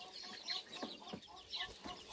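Hamburg chickens cluck and squawk in scattered, agitated bursts close by while being moved into a small outdoor cage, with quiet background sounds between calls.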